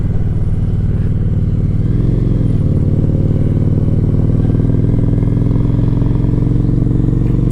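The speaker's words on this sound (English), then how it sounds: "We hear some fellow bikers." Steady, loud motorcycle engine drone from riding on a small Shadow bike. Other bikers' motorcycles pass, giving a slight swell in the rumble partway through.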